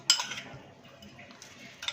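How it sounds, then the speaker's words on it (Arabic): A metal spoon clinks against a cup of warm milk as two spoonfuls of sugar go in, with a few quick close clinks at the start and another short tap near the end. "معايا كوبايه لبن دافي، احط عليهم معلقتين سكر"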